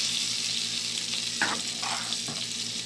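Taco rice sizzles steadily in a pan with a constant bright hiss, while a few scraping stir strokes surface briefly in the middle, close up and without speech.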